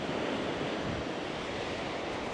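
Ocean waves break on a beach at Salalah, Oman, a continuous loud roar of surf with wind noise and no voices.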